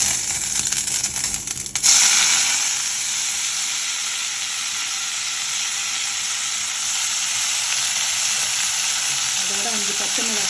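Mint leaves frying in oil in a kadai make a steady, close sizzle that continues throughout, with a brief stirring scrape near the start.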